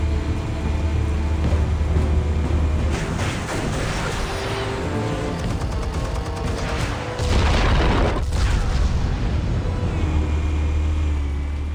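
Explosives detonate in Batman: The Telltale Series with a loud, sustained, rumbling boom that swells again near the end, heavy in the low end and with no voices.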